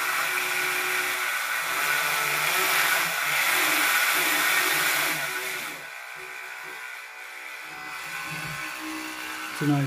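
A repaired Makita DTM50Z cordless multi tool runs loud and close with a buzzing, high-pitched oscillating whine. It drops in pitch and level partway through, then revs again.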